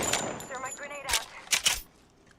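Gunfire from a boss in a video game, several sharp close shots in quick bursts, heard under and between a speaking voice.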